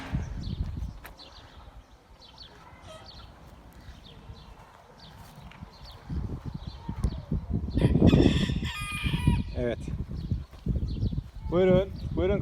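Chickens and a rooster at a backyard coop, scattered clucks and calls with a rooster crowing near the end, mixed with rustling and shuffling and a person speaking at times.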